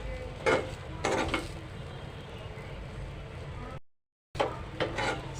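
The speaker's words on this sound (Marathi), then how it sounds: "मिक्स करा खालून ते वरपर्यंत मिक्स करा" A spoon stirs an onion-coconut masala paste with curry leaves in a pan, giving a few soft scraping strokes and faint sizzling, with a brief cut to silence near the end.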